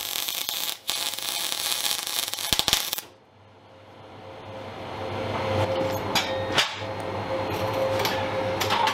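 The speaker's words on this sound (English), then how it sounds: "When I'm welding I sped up the recording so that it doesn't take very long" Sped-up welding on a PAK43 gun cradle for a Nashorn tank destroyer restoration, a steady dense crackling hiss that cuts out briefly, then resumes with a low hum and scattered sharp clicks.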